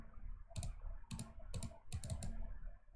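Quiet computer mouse clicks while working in Revit Dynamo, about four or five small clusters of sharp clicks spaced roughly half a second apart, close and faint, with no talking.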